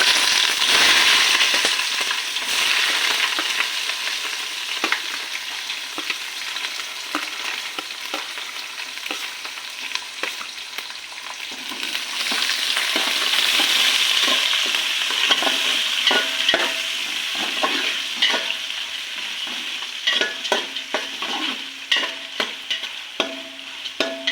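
Onion and green chillies fry in hot oil in a pan for a Sunday chicken curry, a loud continuous sizzle broken up by frequent scraping and stirring strokes, with no voices.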